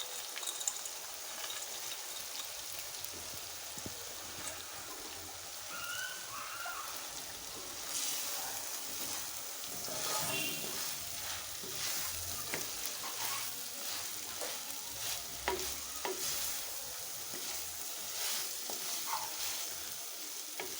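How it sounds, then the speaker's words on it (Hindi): Pieces of taro root sizzle steadily in a spiced masala as a spoon stirs them in the pan. The frying hiss is continuous and moderately close, with scraping stirs and clinks scattered throughout and no talking. "और अरवी को मसाले में हम अच्छी तरह से भून लें ताकि मसाला इसमें अच्छी तरह से जज़ब हो जाए।"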